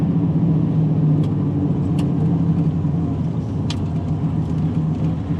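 A 1969 Chevrolet C10 pickup with an LS3 V8 and six-speed drives along, its engine a steady, close, loud low rumble under road noise, with no voices.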